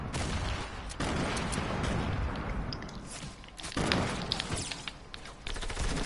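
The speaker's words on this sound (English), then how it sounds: "Why are they shooting at me?" Dense video-game gunfire fills the scene with rapid bursts and heavy thumps, including a grenade blast, loud and continuous with booming surges near the one-second and four-second marks.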